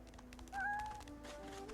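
A cat meows in Divinity: Original Sin 2, a few drawn-out rising cries over a steady game music and ambient bed, moderately loud and with no talk.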